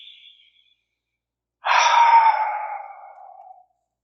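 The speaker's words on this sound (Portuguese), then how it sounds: "respirando profundamente" A single deep, audible exhale drifts off slowly after a brief faint breath, close to the listener in a quiet room with no talking.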